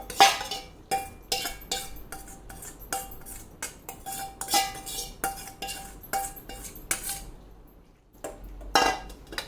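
Ingredients for a sweet lemon pickle are tipped into a pressure cooker with a metal spoon, making repeated close clinks, taps and scrapes in an uneven rhythm, with a brief lull before a final flurry of clatter.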